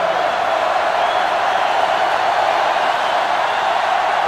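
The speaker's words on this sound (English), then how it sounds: "It's arguably the loudest crowd in the nation, and they are turning it up a notch." Roaring stadium crowd at a college football game in NCAA 2005 on Xbox, Ohio State against Michigan: a loud, unbroken wall of cheering noise holding steady throughout.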